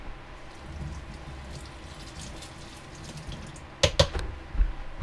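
Tap water runs over a measuring spoon being rinsed at a kitchen sink during crispy chili beef prep: a faint steady trickle, then a few short, louder splashing bursts near the end, with no talking.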